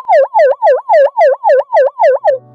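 A boy imitates an ambulance siren with his voice, making loud, close, rhythmic rising-and-falling wails repeated about eight times in quick succession before stopping abruptly.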